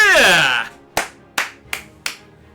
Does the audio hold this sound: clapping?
yes